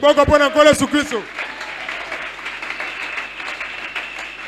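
A church congregation applauding the Lord Jesus, a dense, sustained burst of clapping that follows a pastor's brief spoken call and carries on steadily, fairly loud, to the end.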